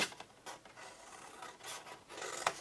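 Soft, close scraping and rubbing as a blade cuts along the score line of a large paper bag box, uneven strokes with small bursts of friction and no voices.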